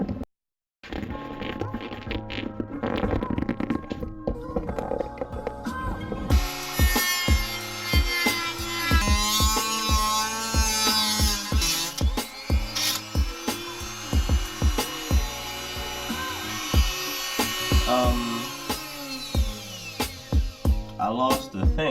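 A rotary tool cuts through a cheap Nissan 350Z headlight housing in rapid, rasping bursts. A brief pause comes early, then the cutting runs continuously with uneven scraping strokes, close and fairly loud.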